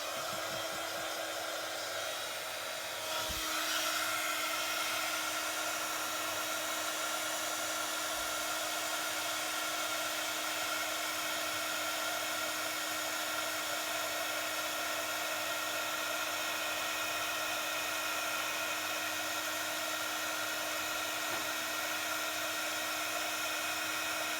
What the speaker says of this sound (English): we just need our heat gun to heat that up, so it will get a little bit noisy now